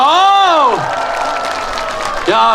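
Audience at an outdoor herbal-medicine culture festival concert applauds and cheers a singer, a broad wash of crowd noise between a voice heard at the start and again at the end.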